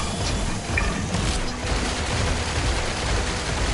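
Dense, continuous gunfire and explosive bursts from a video game played on PS4, a steady loud barrage filling the whole stretch with no voices over it.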